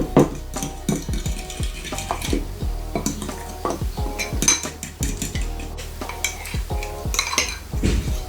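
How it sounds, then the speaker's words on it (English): Ingredients mixed in a bowl for a simple three-ingredient meal: a utensil clatters and scrapes against the bowl in a quick, uneven rhythm of distinct knocks, close and fairly loud, with no speech over it. "so we just mix it"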